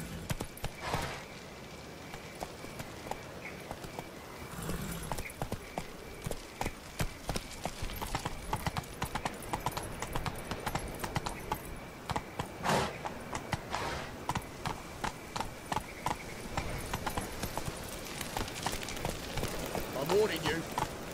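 Horse hooves gallop in The Witcher 3: Wild Hunt on Xbox One, a steady, rhythmic clip-clop that runs throughout, with voices heard over it.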